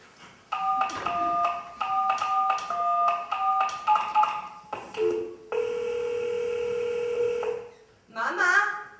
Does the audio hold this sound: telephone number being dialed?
yes